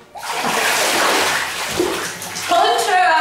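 A river's water rushes in a steady, loud broadband wash close to the microphone, with a voice breaking in briefly near the end.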